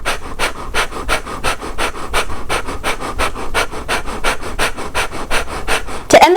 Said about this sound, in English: really focusing on equal amounts of inhale and exhale through your nose